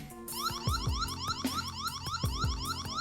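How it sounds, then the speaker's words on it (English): A loud electronic siren from a Wyze Cam V3 security camera, cycling through rapid rising whoops and warbling tones, repeating in a patterned alarm sequence with no voices. "The app has an option for you to sound the siren."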